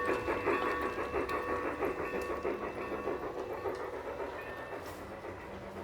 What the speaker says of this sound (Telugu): ఇక్కడ మన ఫుడ్ పట్టుకొచ్చేస్తుంది చూడండి ట్రైన్